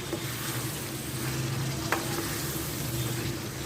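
Onions sizzling and being stirred in a pan for a Pakistani beef stew, a steady dense frying hiss with a low hum beneath and one sharp utensil tap midway, close and continuous.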